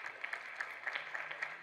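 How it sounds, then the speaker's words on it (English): An audience at a BRICS youth entrepreneurship event applauds, a short burst of dense, steady clapping from a room full of people. "Clap for him."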